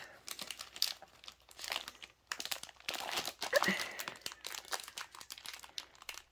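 Plastic packaging of a counted cross-stitch kit being opened up close, with irregular bursts of crinkling and crackling and a brief tearing rustle, separated by short quiet pauses.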